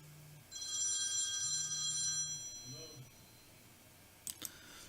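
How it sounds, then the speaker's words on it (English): A telephone rings with a steady electronic tone for about two seconds, then falls silent, followed by a pair of sharp clicks, heard for film foley editing. "next thing to consider with this phone ring"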